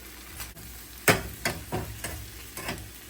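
Shrimp cook in a pan on a stove over medium heat for Jamaican pepper shrimp, with a steady sizzle broken by several sharp scrapes and knocks of a utensil against the pan, spaced irregularly, with no talking.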